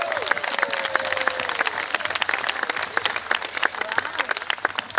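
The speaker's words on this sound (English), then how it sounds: "And a massive cheer for your staff captain, Daniela." An evening audience gives a cheer and applause for a staff captain at a Vietnamese cultural and arts show, busy clapping throughout with crowd noise and a steady low musical pulse beneath.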